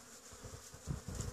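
Steady, close buzzing of many honey bees at the entrance of a Warré hive, a dense hum with soft rising pulses, no voices.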